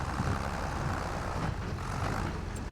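An underpowered tractor engine in Farming Simulator 25, running as a continuous low diesel rumble that holds steady and close, then cuts off abruptly at the very end.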